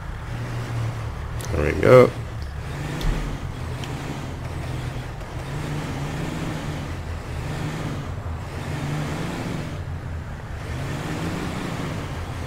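A pickup truck's engine in GTA 5 straining while towing a Ford Mustang out, a low steady rumble rising and falling in slow surges, with a voice talking briefly over it.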